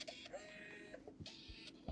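A home photo printer takes in a 50mm-wide media cartridge slotted along its grooves, giving a few soft clicks and thumps mixed with brief whirring mechanical bursts at close range.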